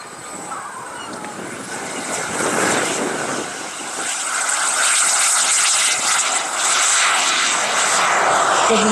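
A model Rafale jet with turbine power takes off at a July 4th airshow, its engine a steady, loud broadband roar that swells as it accelerates down the runway and climbs.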